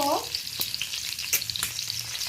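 Eggs with turmeric fry in a pan with a close, bright sizzle while a spatula stirs them in a few sharp scraping strokes, and a brief tonal clink sounds at the start.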